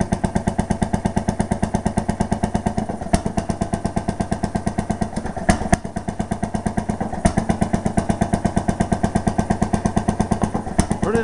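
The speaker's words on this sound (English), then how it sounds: "Pretty nice little engine." An Ellis vertical two-cycle stationary engine rated at 1 to 3 horsepower runs close by with a fast, even, loud chuffing beat, broken by a few sharp clanks.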